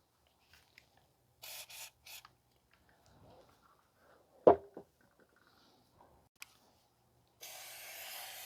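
Short hissing bursts of an aerosol spray on rear brake parts and hub of a 2010 Toyota Camry, a few quick spurts early on and a longer one at the end, with a small clank in between.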